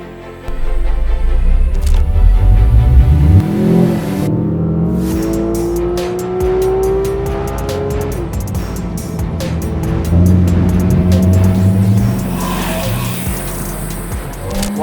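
A Porsche 911 GT3 RS sports car pulls away loudly, its engine note climbing through a rev sweep before settling into a steady, close, droning cruise with brief rises in pitch.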